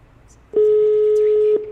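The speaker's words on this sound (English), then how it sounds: "I think that's the ringing. That's internet ring." A single steady electronic ringing tone, clear and close, holding for about a second before cutting off.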